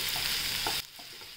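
Crushed garlic and ginger fry in hot oil with a loud, dense sizzle and a quick stir, then the sound drops off sharply to a faint simmer about halfway through.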